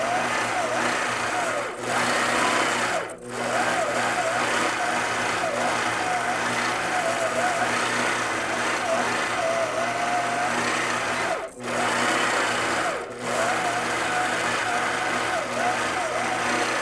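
Longarm quilting machine stitching a shadow pantograph from a paper pattern, a steady close mechanical whir running continuously with a few brief pauses.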